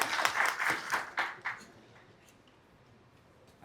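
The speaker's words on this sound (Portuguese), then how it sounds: "Salva de palmas aí" Audience applause at a panel on political coverage in social media, a burst of clapping that fades out within a couple of seconds, with brief crowd noise.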